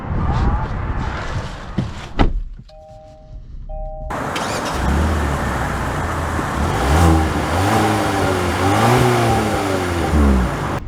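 A 2024 Kia K5 GT-Line sedan pulls away after a brief start-up. Its engine rises and falls in pitch through several revving pushes, loud and close from inside the cabin.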